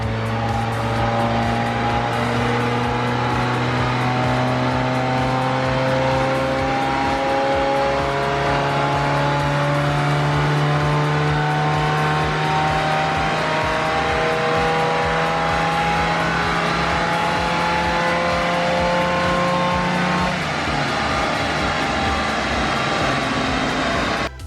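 Volkswagen Golf MK1 engine on a dyno, a loud and continuous run whose tone climbs steadily through the rev range for about twenty seconds before the throttle is released, with no talking.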